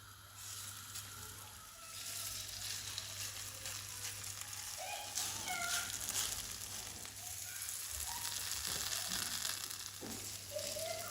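Healthy köfte meatballs sizzle in a pan, starting as a quiet fry and building to a louder, crackling sizzle with scattered pops and a few faint clinks.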